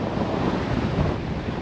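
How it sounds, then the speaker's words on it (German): Strong mountain wind at about 1,800 m in Georgia roaring and buffeting the microphone in a continuous, loud rush with no voices. "ist das hier ein Wind hier oben?"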